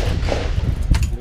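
A single close, loud rifle gunshot cracks out sharply near the end of a short burst of noisy background rumble.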